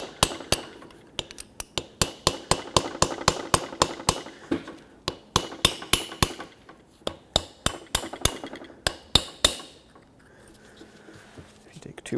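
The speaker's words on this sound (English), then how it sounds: "I'm going to use a chisel bit and lift up this edge here" Rapid metallic hammer strikes drive a chisel bit against the edge of a rear wheel bearing seal on a 2003-2021 Chevrolet Express 3500 van, loud close repeated blows in irregular bursts with brief pauses.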